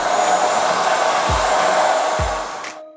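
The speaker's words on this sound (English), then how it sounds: "So we're just going to start blow drying backwards." Hair dryer blowing steadily on hair close up, a loud constant whoosh with a couple of brief low bumps before it tapers off and switches off at the end.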